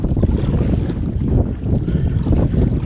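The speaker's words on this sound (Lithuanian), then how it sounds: "Dabar iriuosi prieš vėją" Kayak on a bog lake pushing into a headwind, with steady low wind rumble and water wash throughout and faint paddle splashes, close and continuous with no talk.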